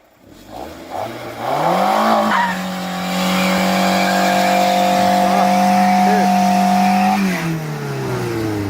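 Toyota MR2 with a single wheel spinning as the clutch is roasted: engine revs climb, then a long sustained high tire squeal over a droning engine, loud and close, easing off near the end.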